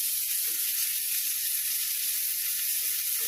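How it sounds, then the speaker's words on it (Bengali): Spiny gourd and pointed gourd fry in hot oil with a steady, bright sizzle that holds evenly throughout, close up and with no talking. "এরকম কাঁকরোল দিচ্ছি, আবার পটলটাকে আমি আলাদা করে দেবো, একসাথে ভাজা হয়ে যাবে"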